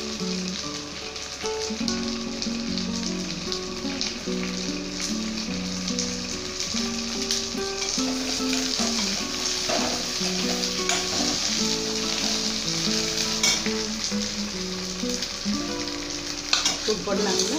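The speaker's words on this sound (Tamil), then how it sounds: "நல்லா சின்ன வெங்காயத்தை வதக்கம்." Small onions sauté in a pan for vadagam chutney, giving a continuous close sizzle with occasional stirring, under steady tonal background music throughout.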